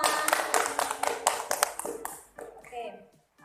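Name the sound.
applause in a classroom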